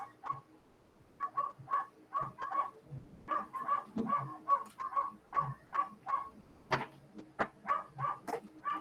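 Dogs barking in a steady run of sharp, repeated barks, fairly distant, with short gaps and no talking.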